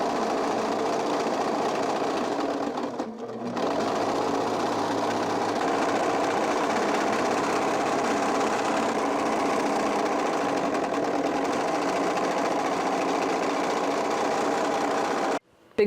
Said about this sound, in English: I'm going to do the whole top layer on my sewing machine